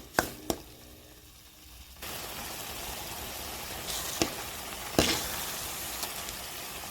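Masala for pav bhaji roasts in a pan with a steady sizzle that swells louder after a couple of seconds, broken by a few sharp spoon taps and clinks.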